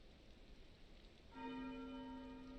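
A bell rings in the video game Tales of Arise, entering abruptly partway through after a stretch of soft background noise, then holding a steady, resonant tone with bright overtones at moderate loudness.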